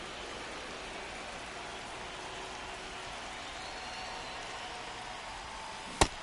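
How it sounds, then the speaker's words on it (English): Rain falls steadily on a baseball stadium in MLB The Show 25, a constant faint hiss of drops with no voices, broken only by one sharp click just before the end. "This rain is not letting up."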